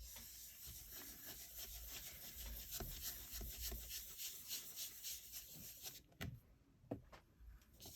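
A brush rubs and scrubs against paper to distress the centre of a card, giving a steady, close, soft rasping scratch that stops and starts near the end, with no talking.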